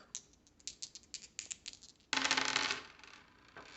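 Red and black dice from the Doom board game rattle and clatter in a quick run of sharp, light clicks. A brief, denser scattering burst follows as they tumble across a surface, close and quiet.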